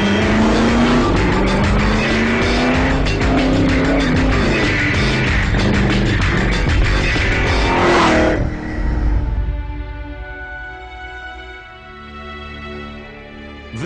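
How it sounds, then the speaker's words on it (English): A 1960s Ford GT40 race car with a 7-litre engine roars past at speed, its loud, harsh engine note climbing and shifting before dropping away into a fading lower drone as it passes. "This is the old GT40, the one from the 60s, the 7-litre, 200-mile-an-hour monster"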